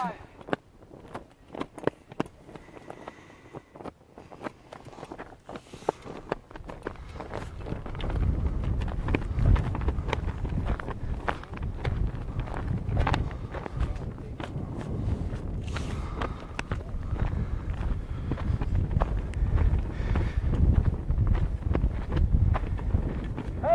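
Wind blows across an outdoor protest march, building into a continuous rough rumble on the microphone, mixed with footsteps and scattered clicks.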